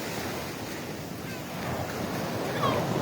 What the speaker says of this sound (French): Ah bah il y a quand même plus de vagues ici.